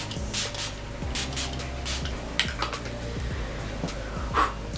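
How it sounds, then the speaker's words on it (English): Make It Last Original Setting Spray misted from a pump bottle, several short hissing bursts in quick succession over soft rubbing and handling noise, close and quiet. "I'm gonna set it with the Make It Last Original Setting Spray"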